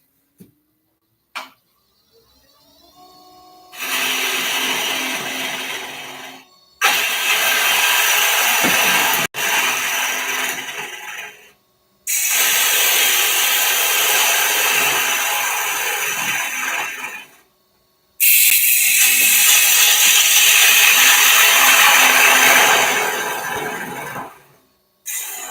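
A smaller gouge cuts into wood spinning on a lathe, giving a harsh, steady scraping hiss in several long passes of a few seconds each, broken by brief silent gaps as the tool lifts away.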